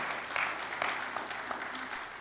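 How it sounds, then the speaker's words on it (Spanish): A church congregation breaks into sustained applause of praise, a steady dense wash of many hands clapping at moderate volume throughout, with no clear voices. "¿Puedes darle un aplauso de alabanza a Él?"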